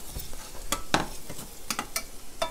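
Food toasting in a nonstick pan is stirred and turned, giving quick scraping strokes and soft rattles over a low sizzle, close and fairly quiet, with no talk.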